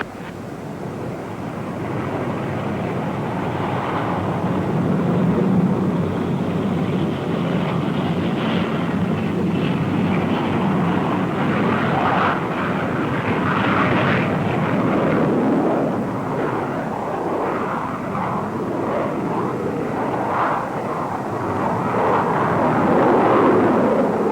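A Crusader III military jet aircraft takes off, giving a loud, sustained broadband engine roar that holds steady across the whole stretch with no talk over it.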